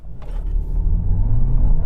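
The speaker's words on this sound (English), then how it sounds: "I'm just going to lift off the brake and then floor the accelerator" Volkswagen Golf 1.5 petrol launching hard from a standstill with the accelerator floored: a deep engine rumble swells steadily louder, heard from inside the car with no talk.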